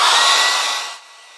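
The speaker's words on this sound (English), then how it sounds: "Now I'm going to let these two trees dry with a hairdryer here." A hair dryer drying watercolour paint blows loudly up close for about a second, then its airflow drops to a softer hiss as it is switched down.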